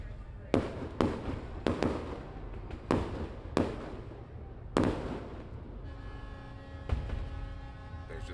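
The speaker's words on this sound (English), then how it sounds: "we are seeing right now those fireworks go off" Fireworks at a winter boat parade burst in a string of sharp, loud bangs, several spaced about a second apart, each trailing a crackling rumble, with voices audible in the background.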